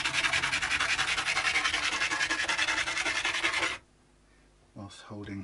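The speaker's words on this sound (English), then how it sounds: "Now we've got a little extra bit here that's going to take a while to carefully sand down" A guitar part being carefully sanded down by hand, with rapid rhythmic rasping strokes, close and loud, that stop abruptly near the end before a brief bit of faint voice.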